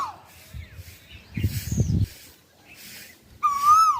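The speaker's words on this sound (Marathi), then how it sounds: "कोकिळाला पण वाटतं की माझा एक व्हिडिओ काढावा म्हणून ती बरोबर कू करते" An Asian koel calls in a few short tonal phrases, a faint one at the start and a clearer, louder rising call at the end, with some soft thumps and rustling in between.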